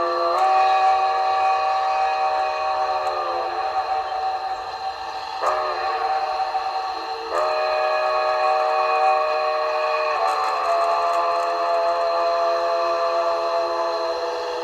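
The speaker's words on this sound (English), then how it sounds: "F2 is the short or the highway crossing whistle." Highway crossing whistle on an LGB Forney model steam locomotive fitted with a Zimo MS950 sound decoder: repeated loud, chord-like tonal blasts in a long-long-short-long pattern, each with a slight pitch sag at the end, alone and steady.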